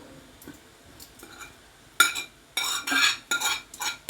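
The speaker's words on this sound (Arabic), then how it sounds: "دابا غادي نديرو داك السكينجبير في هاد الكاس" Ginger for a cough remedy is dropped and stirred into a glass, making a few faint taps early on and then several louder clattering, clinking bursts close up with no talk.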